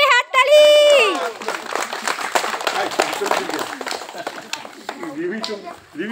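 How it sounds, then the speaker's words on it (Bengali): Schoolchildren clap loudly at a school Agomoni program on Mahalaya day, a dense, steady patter of many hands running under singing and children's voices, following a brief sung phrase at the start. "জোরে হাততালি"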